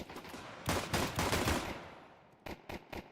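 Rapid bursts of gunfire in a Counter-Strike esports match: a dense stretch of automatic fire followed by several shorter, separate volleys, loud and close.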